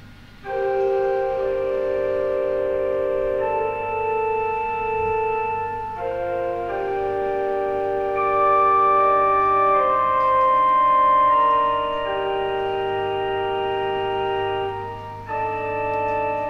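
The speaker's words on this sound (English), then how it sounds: "If you are hearing organ music," Steady organ music playing alone in a video game, sustained chords shifting through a slow melodic line at a moderate, even volume.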